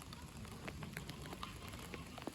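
Steady rain falls at an outdoor Sunday church gathering, a dense continuous patter across the whole stretch with scattered sharper drop hits, moderately loud and with no voices over it.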